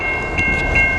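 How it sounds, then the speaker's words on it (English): A CN local freight train sounds its horn at the Pennsylvania Road railroad crossing in Riverview, Michigan: one short, steady, loud blast over rumbling background noise. "We got a train coming here at the Pennsylvania Road."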